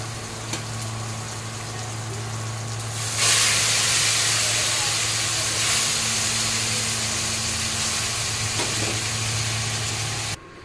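Dal tipped into a hot pan bursts into a loud, broad hissing sizzle that starts suddenly and holds steady for several seconds before cutting off, over a low steady hum beneath.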